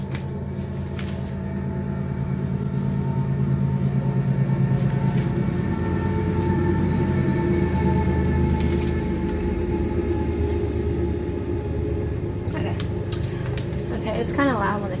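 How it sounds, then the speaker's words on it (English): A train rumbles past close by, a loud steady roar with rattling wheels and metallic squeals that lasts for many seconds. "Here comes a train, so let's let them pass a little bit."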